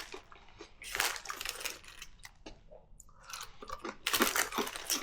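Someone chewing crunchy plantain chips close up, with bursts of sharp crisp crunches separated by quieter pauses.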